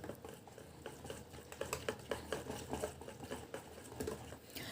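A spoon stirs rava uttapam batter mixed with baking soda in a bowl, giving soft, quick scraping and tapping strokes in an uneven rhythm, close and fairly quiet, with no voices.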